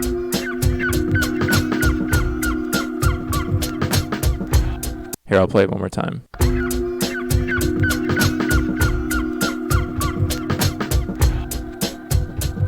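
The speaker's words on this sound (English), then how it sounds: "you'll hear how it starts to drift to the left as that seagull sample plays" A sampled seagull cry loops rhythmically over the beat of a track, repeated squawks riding the music, which stops briefly and restarts, with someone speaking over it.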